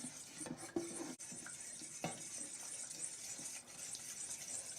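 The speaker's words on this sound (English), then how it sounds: "And I'm whisking as I'm adding." Milk being whisked into a chicken and potato chowder in a pot on the stove, a soft continuous stirring and sloshing with occasional light clinks of the whisk against the pot.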